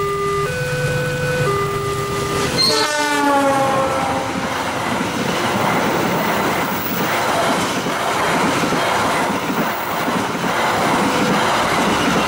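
The Argo Bromo Anggrek passenger train rumbles steadily with a loud, continuous roar of wheels on track, preceded by a brief rising tonal sequence like a station chime.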